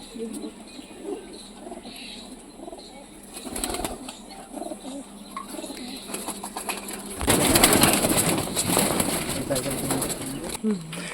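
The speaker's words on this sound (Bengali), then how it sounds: "সব বন্ধ লেজের পায়রা আছে সব এক কাঠির পায়রা" Teddy pigeons coo in soft repeated calls close by, joined by wing flutters and a burst of louder flapping, while someone talks over them.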